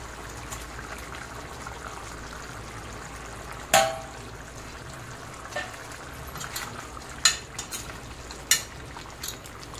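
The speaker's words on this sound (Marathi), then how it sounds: "आता त्याच्यामध्ये आपल्याला हे फ्राय केलेले पनीर टाकायचे आहे" Fried paneer being added to thick, simmering masala gravy and stirred: a low bubbling sizzle with a few sharp clinks and scrapes of a spoon against the pan, the loudest knock coming early on, and no one speaking.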